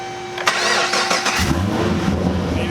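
A Procharger-equipped F1A supercharged Chevy SS V8 cranks with a rapid starter whir, catches with a sharp bark, then settles into a loud, lumpy rumbling idle, close by.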